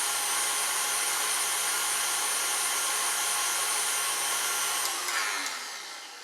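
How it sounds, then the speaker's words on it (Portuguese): An electric mixer whirs steadily at higher speed while beating eggs for an orange chiffon cake batter, a constant close motor drone that shifts briefly near the end and then fades. "Agora eu vou aumentar um pouquinho a velocidade da batedeira para misturar bem esses ovos."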